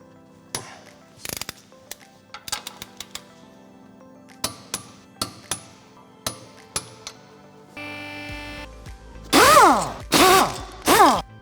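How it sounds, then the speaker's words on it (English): Torque wrench clicks while tightening the suspension control arm bolts on a vehicle: a series of sharp, close metallic ratchet clicks in uneven bursts, then a brief steady hum and several loud squealing tool bursts near the end. "we can torque this one up now"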